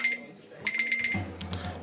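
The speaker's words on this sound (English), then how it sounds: "Alright, that's the alarm." An alarm goes off in the video game Baldur's Gate with a series of short, bright, high-pitched ringing pulses over a low background hum.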